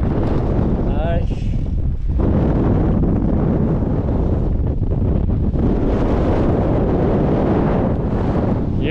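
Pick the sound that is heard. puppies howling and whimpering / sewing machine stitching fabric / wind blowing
wind blowing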